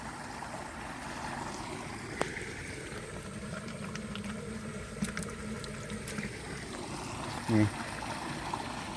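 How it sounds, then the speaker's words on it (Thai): Water flows and spills through a rice field in a soft, steady rush, with a brief spoken word over it. "ฟังเสียงน้ำโตนตร้อนท่านผู้ชม"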